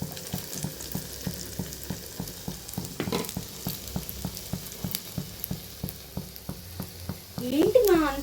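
An onion omelette egg mix sizzles and fries in plenty of oil, a steady crackling hiss with regular soft ticks of stirring, fairly close and moderate in level.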